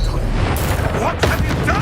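The Incendio fire spell is cast in the Hogwarts Legacy game, a loud whooshing burst of flame that swells and booms through a dense, noisy battle with voices underneath.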